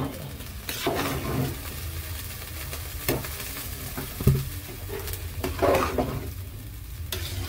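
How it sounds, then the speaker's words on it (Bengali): Fried potato and cauliflower are stirred into khichuri in a pot, with repeated scraping and clacking strokes of a spoon against the pot over a low steady sizzle, close and moderately loud, with no talking. "ভালো করে নেড়ে একসাথে সব মিক্সড করে দিতে হবে"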